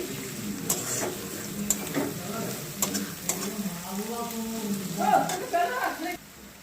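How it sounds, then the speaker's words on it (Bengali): Sizzling of chopped onions frying to reddish-brown in a pan, with scraping stirs and utensil clicks, while someone talks over the cooking. "দেখো পেঁয়াজটা আমার লাল লাল করে ভাজা হয়ে গেছে"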